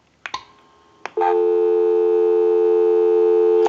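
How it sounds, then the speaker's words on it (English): A steady dial tone hums from a repaired Spacesaver telephone, loud and continuous after a few short clicks of the handset and hook switch, holding alone without any talk. "Give you some dial tone."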